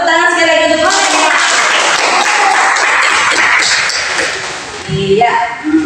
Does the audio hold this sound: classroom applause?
yes